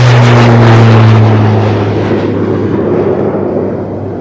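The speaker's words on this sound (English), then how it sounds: "This is from the Farnborough Aircraft Corporation. This is the Kestrel." A Farnborough Aircraft Corporation Kestrel light aircraft passes at the Farnborough Airshow, its loud propeller engine drone droning close at first, then slowly fading as it moves away.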